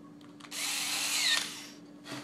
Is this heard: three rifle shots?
no